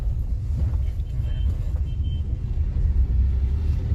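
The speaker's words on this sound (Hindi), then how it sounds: "तो ये देखिए गाइज अब हम ऑटो में शिफ्ट करके गाड़ी हाईवे पर रन करने वाले हैं।" Steady low rumble of a Tata Nano AMT small car running on a highway in automatic mode, road and engine noise filling the cabin continuously at moderate level.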